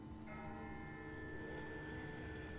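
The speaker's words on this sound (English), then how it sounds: "Listen, that's not the same bell as before. This one's further off." A distant bell rings steadily in The Walking Dead video game, a sustained metallic tone hanging over a low, rumbling background with no talk.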